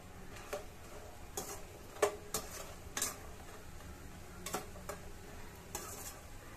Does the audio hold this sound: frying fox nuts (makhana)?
yes